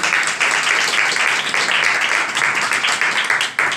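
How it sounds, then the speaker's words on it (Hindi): Strong, continuous clapping from a church congregation applauding Jesus Christ at a sermon, steady and close with no break for the full length. "Let's have a big hand for our Savior Jesus Christ."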